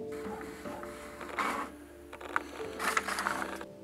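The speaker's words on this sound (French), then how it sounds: "la photo qu'on vient d'exporter au format A4, on va l'imprimer" A printer running an A4 photo print, quiet and mechanical, with a low steady hum and two short bursts of feed and print-head noise a second or so apart.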